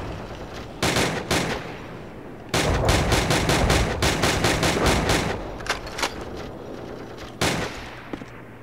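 Gunfire from Call of Duty: Roads to Victory on the PSP: loud bursts of rapid automatic fire and single sharp shots come in uneven clusters with short pauses between them, close and punchy.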